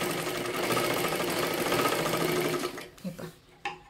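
A sewing machine runs steadily, stitching the lining of a princess blouse, a dense continuous whir for most of the clip before stopping abruptly, followed by a few short clicks and fabric handling noises.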